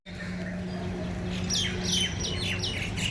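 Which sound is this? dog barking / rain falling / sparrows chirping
sparrows chirping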